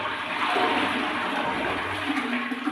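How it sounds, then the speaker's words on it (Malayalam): A household toilet flushes in one continuous rushing gush of water, close and loud, with no voices. "ഇതുപോലെ ഒന്ന് ഫ്ലഷ് ചെയ്ത് കഴിഞ്ഞാൽ"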